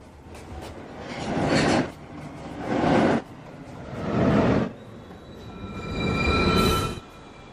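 A NYC subway 1 train at Rose Street station gives four swelling waves of rumbling rail noise, each rising and fading, with a high thin wheel squeal coming in over the last one.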